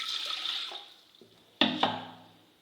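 Water pours briefly into a pan for making tea, a short splashing rush that fades, followed by a couple of sharp metallic clinks close by.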